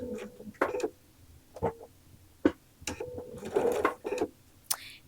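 Sewing machine back tacking on a quilt, working in short separate bursts of mechanical whirring and clicking with pauses between them, fairly quiet and close.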